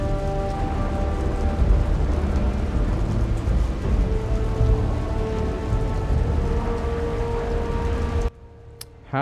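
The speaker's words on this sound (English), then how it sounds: "Man, this thing with the sound of the rain." Steady heavy rainfall in the God of War game, a dense continuous hiss with low rumbling underneath that holds for several seconds and then cuts off abruptly near the end.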